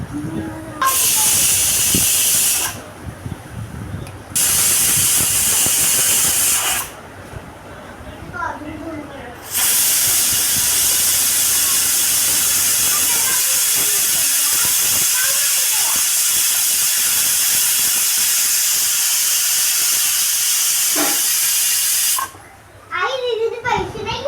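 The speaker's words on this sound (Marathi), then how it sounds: "तर हे झाकून आपण 3 शिट्ट्या देऊया" A pressure cooker cooking dal khichdi lets out three loud, shrill steam whistles, the last one long and sustained, with someone talking in the pauses between them.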